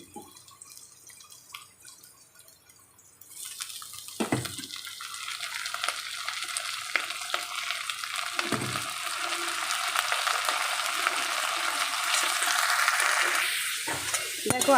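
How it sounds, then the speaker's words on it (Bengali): Vegetables and soybean chunks frying together in a pan, a steady loud sizzle that swells after a few seconds and is broken by occasional scraping stirs, with no talk. "আর সমস্ত সবজি আর সয়াবিন একসাথে এখন ভেজে নিচ্ছি"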